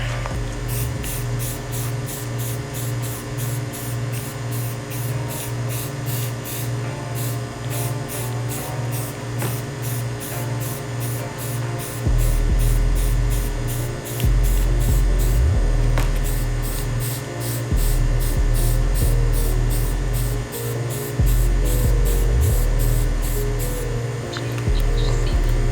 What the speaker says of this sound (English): And pop the primer on real quick.